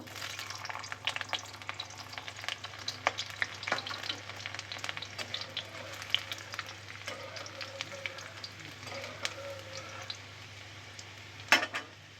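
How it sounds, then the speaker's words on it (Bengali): Chopped garlic fries in hot mustard oil in a pan, a steady close sizzle with crackling pops and occasional scraping stirs throughout, over a low hum. "আমি এবার রসুন কুচিগুলো দেবো"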